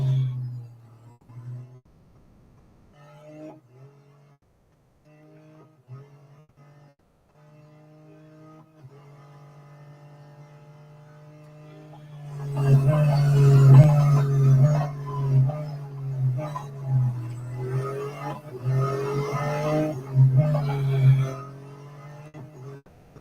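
Race car engines in the Real Racing 3 mobile game: a faint steady engine hum through the quiet first half, then louder rushing, whining car sounds with repeated surges and bursts, no talk.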